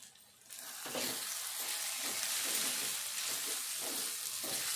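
Chili powder and salt sizzling in a hot pan of frying dal base, a steady loud hiss with soft intermittent stirring scrapes, no voices.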